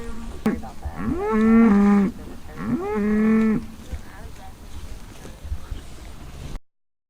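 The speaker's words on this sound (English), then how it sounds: "Her and the other cow that just had a calf." A cow on a farm, recently calved, lets out two long, loud, deep moos in close succession, then quieter rustling outdoors.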